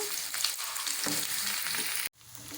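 Cumin and finely chopped onions fry in a pan for chicken curry, giving a steady close sizzle with light stirring that cuts off abruptly near the end.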